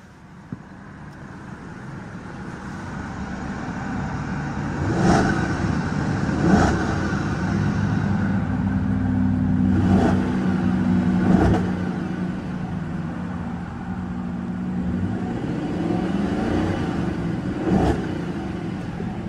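Revving engine of a 2012 Audi A8 L pushed toward its rev limiter around 4,000 RPM, a steady mid-loud drone with several sharp throttle blips spread through the clip, and no talking.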